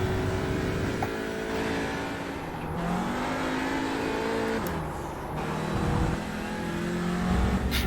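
A race car engine on a track revs and drops repeatedly as the throttle rises and falls, a loud steady drone from inside the car with pitch sweeping up and down through gear changes.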